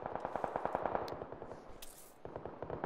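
Gunfire in the video game PUBG on PS4 Pro: rapid bursts of automatic shots rattle out in quick regular volleys, pause briefly, then resume, moderately loud with a slight echo.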